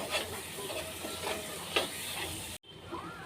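Everest chicken masala stirred through chicken in a pan, a steady close scraping and sizzling hiss that stops abruptly near the end.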